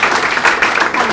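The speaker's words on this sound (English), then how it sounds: "Can we give them a round of applause, please?" Brief burst of loud audience applause for a panel at a discovery meeting, a steady wash of clapping throughout the short moment.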